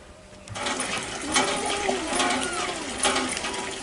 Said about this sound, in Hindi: ये पानी भरत हूँ।